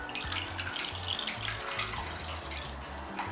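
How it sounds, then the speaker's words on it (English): Water pours steadily from a tap into a small bowl while batter for coconut shrimp is being prepared, a close and continuous trickle with splashy texture and no talk. "add some water."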